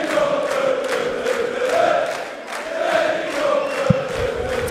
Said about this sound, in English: But first we've got to cheer a little.